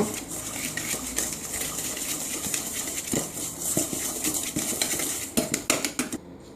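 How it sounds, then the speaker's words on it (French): A whisk beats egg yolks and sugar in a bowl with quick, steady metallic clinks and scrapes against the sides, close and fairly loud, ending in a few sharper taps. "on va prendre un fouet comme ça. Voilà pour blanchir tout ça."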